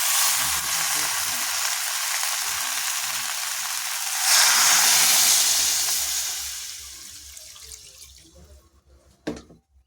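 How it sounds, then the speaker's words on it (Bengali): Potato curry sizzles and fries in a pan while being stirred, a steady hiss that swells and then fades, ending with a few scraping clatters. "আবার একটু ভালো করে নাড়িয়ে নেব"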